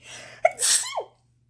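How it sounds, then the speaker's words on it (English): A single sharp sneeze, close up, with a quick breath in before it and a tapering exhale after, then silence. "So, and then I sneeze."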